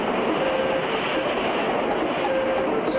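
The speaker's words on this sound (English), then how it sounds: "Sounds like open water, rushing over huge boulders." A steady, loud roaring rush of open water churning over huge boulders continues without a break.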